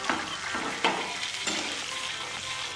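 Hot oil sizzles steadily as cashews fry with garlic, ginger and two tomatoes, while a spoon stirs through the pan with a few soft scraping strokes; close and continuous, no talking.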